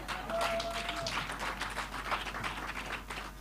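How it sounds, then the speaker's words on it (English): An audience applauding at a live event celebrating Nyerere at Makerere University, with dense, moderate clapping that holds steady throughout. "And I can see the men clapping a little bit reluctantly."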